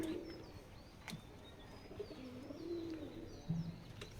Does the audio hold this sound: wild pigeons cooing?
yes